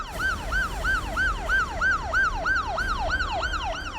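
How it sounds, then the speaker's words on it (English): A wailing emergency siren on an escort jeep sweeps up and down in a fast, regular cycle, loud and close, over a low rumble of traffic. "Sirens blaring, flashing the Lal Batti."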